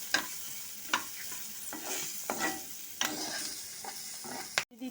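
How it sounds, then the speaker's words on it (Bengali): Peas, nuts and grated coconut being stirred and fried with salt and turmeric in a pan, repeated spatula scrapes over a low continuous sizzle, close and fairly quiet, with no talk. "সমস্ত কিছুর সাথে ভালো মতো করে মিশিয়ে নিয়ে একটু ভাজা ভাজা করে নেব"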